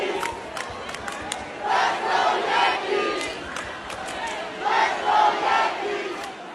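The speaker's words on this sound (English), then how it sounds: "people saw him in the crowd, started doing a "Let's Go Yankees" chant" A crowd at a show at the Apollo chants "Let's Go Yankees" in a repeating rhythmic cadence, loud and echoing in a large room, with a few sharp claps between the chants.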